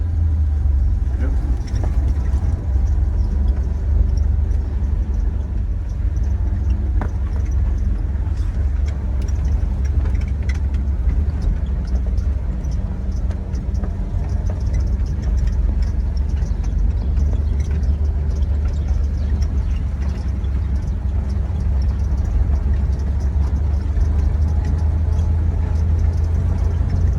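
A 1928 Ford Model A engine drones low and steady while the car is driven, a constant close rumble under intermittent talking from people inside.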